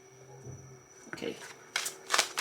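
Tarot cards are handled and shuffled, building from light rustling into several crisp, riffling bursts near the end. A faint voice is present in the background.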